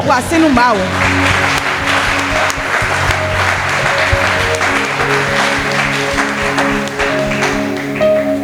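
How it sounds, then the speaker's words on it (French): A church congregation applauds during a worship service, with sustained, loud clapping that continues throughout and is mixed with music and voices. "Acclame pour le Seigneur."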